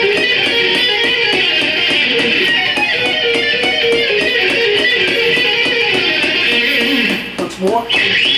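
Fast electric guitar arpeggios played across two to five strings, a dense, steady run of rapid notes over a metronome click, close and loud, fading out near the end.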